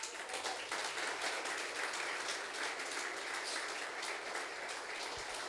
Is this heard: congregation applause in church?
yes